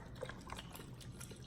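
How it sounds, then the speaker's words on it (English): Beef broth poured from a carton into a cooking pot, a steady close liquid splash and trickle running continuously for a moment without any talk. "I'm gonna shake up the beef broth and go ahead and add that in there"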